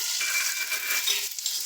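Curry leaves, small shallots and sliced onions frying in hot oil in a pan for a Kerala theeyal, giving a steady close hiss and sizzle with faint stirring, no voices.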